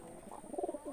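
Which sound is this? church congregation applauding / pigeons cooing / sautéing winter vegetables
pigeons cooing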